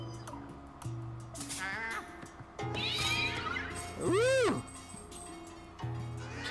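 A cat meows in the video game Luigi's Mansion 3, a few short calls followed by one long, rising and falling yowl, loud over steady game music and effects.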